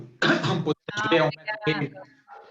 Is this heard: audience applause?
no